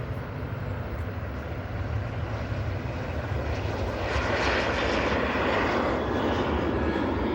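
Ryanair jet airliner taking off at Manchester Airport, fully laden with fuel and passengers, a broad steady engine roar that swells louder in the second half and holds, with no voices.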